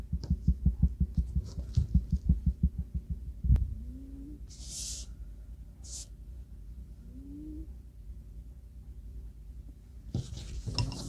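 A sewing machine stitching fabric in a rapid rhythmic run of needle thumps, then a pause with soft whirring and a short back-stitch run near the end, close and fairly quiet.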